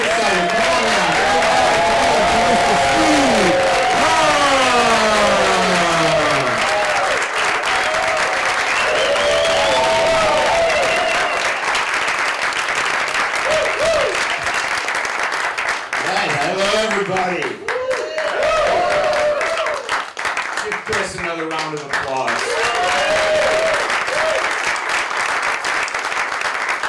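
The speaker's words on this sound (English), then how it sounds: "Start clapping right now. Make some noise." A stand-up comedy audience claps and applauds steadily through the whole stretch. The broad wash of clapping carries a loud, energetic voice over it, with a brief dip near the middle before the applause swells again.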